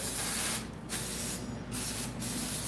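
Several quick bursts from a spray bottle of strong-smelling cleaner, each a short hissing spritz, close and loud, separated by brief pauses.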